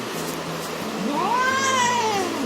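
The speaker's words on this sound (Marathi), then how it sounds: "वाव वाव काय करतेस?" A pet cat gives a single drawn-out meow that rises and then falls, close and clear, over a steady background hum in a home kitchen.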